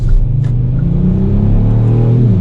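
A 2020 Kia Stinger GT2 accelerates hard in second gear, its engine rising in a loud, deep, continuous rumbling drone heard from close inside the car.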